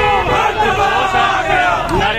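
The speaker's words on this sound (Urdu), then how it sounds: "حکومت کے خلاف شدید نعرے بازی کی جا رہی ہے" Party workers at a political rally chanting slogans against the Imran Khan government, a dense, loud crowd of many voices shouting together in continuous rhythmic waves.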